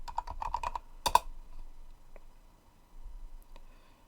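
Keys clatter in a quick burst of typing on a computer keyboard, followed by a couple of sharp clicks and a few isolated taps spaced out over a quiet background.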